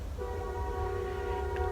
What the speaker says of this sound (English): can you hear the train?